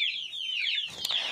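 Young chicks give a rapid run of shrill, high-pitched squeaks, close and fairly loud, with a brief soft rustle partway through.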